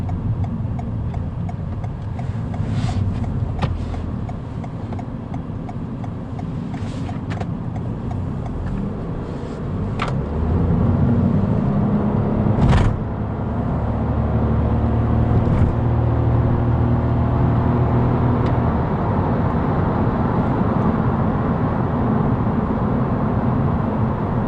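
Steady low road rumble and tyre noise fill the cabin of a Toyota Yaris Dynamic hybrid on the move, swelling a little midway, with a few faint ticking clicks over the drone.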